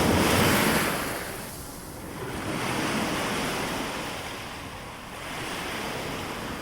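Ocean waves wash steadily against an eroding coastline where a resort is crumbling into the sea. The surf roars broad and continuous, swelling and easing slowly, with wind noise and no voices.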